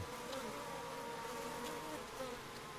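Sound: Korean native honeybees buzzing at the hive

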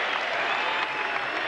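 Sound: basketball crowd cheering at the O'Connell Center

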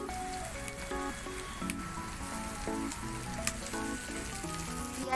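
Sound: onions added to radish chow mein frying in pan

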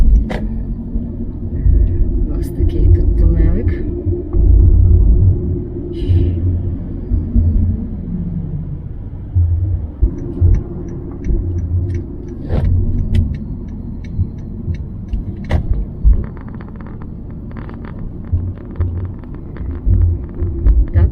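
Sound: car driving through a tunnel

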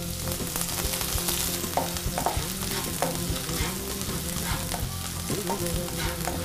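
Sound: crushed ginger and garlic sautéing in hot pan

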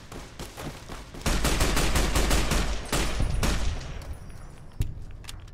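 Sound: gunshots with AP ammunition in Fallout: New Vegas video game

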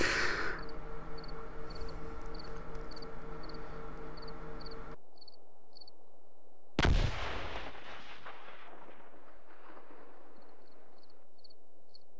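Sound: gunfire in the video game Combat Mission Market Garden

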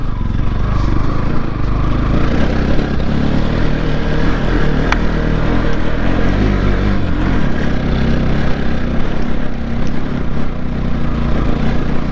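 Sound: scooter going along a dangerous road

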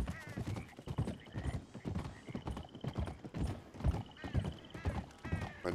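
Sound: horse hooves clip-clop and neigh, Red Dead Redemption 2 video game

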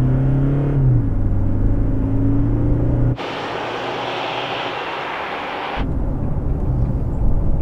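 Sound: 2019 Toyota Landcruiser Prado engine under hard acceleration

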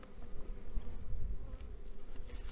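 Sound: honey bees buzzing at open hive

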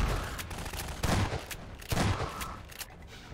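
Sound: shotgun firefight in the video game Half-Life 2

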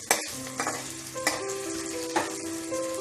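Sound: rui fish frying in a pan

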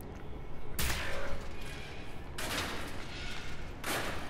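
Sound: gunshots in video game Wolfenstein: The New Order

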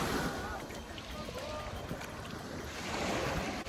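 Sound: water waves lapping on sandy shore

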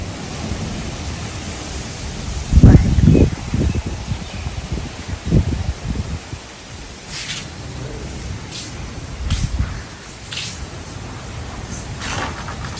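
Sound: strong wind

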